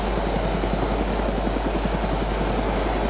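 A helicopter flying in the DayZ video game, a steady loud rotor thump with constant engine drone throughout, close and alone with no talk.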